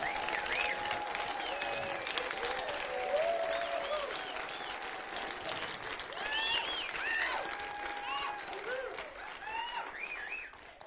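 Audience applause at a New Thought church talk, a steady wash of clapping mixed with cheering voices and whoops. It stays moderately loud and close throughout.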